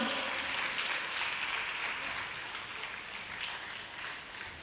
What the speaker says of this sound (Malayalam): നല്ലൊരു കയ്യടി കൊടുക്കാം